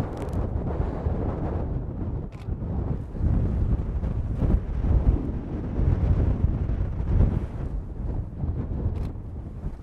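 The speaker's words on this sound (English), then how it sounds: "really windy." Strong wind blowing across an exposed outdoor landscape photography spot, buffeting the microphone in loud, rumbling gusts that rise and fall throughout, with no talking.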